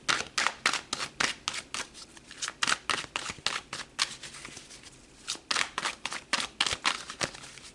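Tarot cards are pulled and shuffled in a steady run of crisp, papery riffles and snaps, each burst short and close, repeating rhythmically with brief pauses and no voices.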